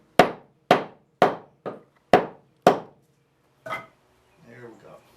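A steel lathe drive center is hammered into a wooden chair-leg blank with six sharp, evenly spaced blows and one lighter final strike, close and loud, followed by a brief murmur of a voice.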